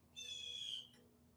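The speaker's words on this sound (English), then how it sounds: "I hear that bird?" A distant owl gives a single brief, faint call, a short rising-and-falling hoot over a quiet background.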